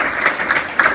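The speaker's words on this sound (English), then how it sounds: "We give Mr. Rami a round of applause." A film screening audience at Fresno State applauds actor Pemon Rami, a brief wash of clapping with a few louder claps near the end, close and fairly loud.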